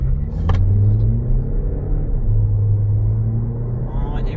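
A Range Rover Evoque pulls away from a standstill, its engine a low, steady rumble from inside the cabin that gradually builds in pitch as it gathers speed.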